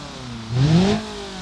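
An old car's engine revs once in a car mod video game, a brief rising rev that swells and falls back to a steady idle, with no talk over it.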